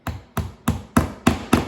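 A hammer taps a finish nail into place on a drawing board in six steady, evenly spaced sharp knocks, close and loud with nothing else heard.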